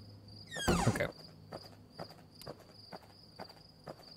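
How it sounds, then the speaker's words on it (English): Evenly spaced footsteps fall one after another in the Pumpkin Panic video game, set against a constant insect-like chirping drone, with one louder swooshing burst near the start. "I'm gonna wait until I hear the footsteps."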